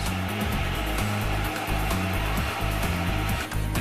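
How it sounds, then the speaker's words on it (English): A falafel batter grinder churns and mixes with a steady, loud mechanical whir, pulsing in a regular low rhythm throughout. "The grinder churns and mixes."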